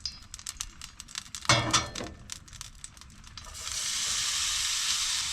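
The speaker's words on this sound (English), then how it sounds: "we get a nice fry started on those onions right away" Onions frying in hot oil in a pan crackle and pop in bursts, then settle into a steady, loud sizzling hiss that carries on alone.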